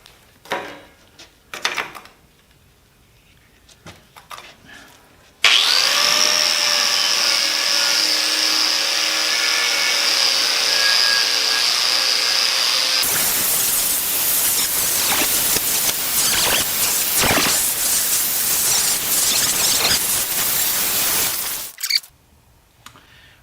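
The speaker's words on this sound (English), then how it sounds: "I'm going to run a wire wheel over it. And then I'm going to use the mag drill to bore some holes" Rusty steel is worked with a wire wheel and a magnetic drill boring holes. Light clatter gives way to about seven seconds of a loud, steady, whining motor, then a harsh, hissing scrub of similar length, followed by quiet handling.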